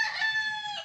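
A Boston Millionaire broodstag rooster crows once, a bright, strident call heard close and clear, lasting under a second.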